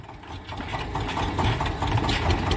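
A tractor with a fault runs nearby at a steady rattling idle, its engine chugging and clattering continuously with no one speaking.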